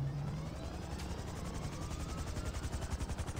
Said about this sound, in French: et Trevor, il s'arrache avec un hélicoptère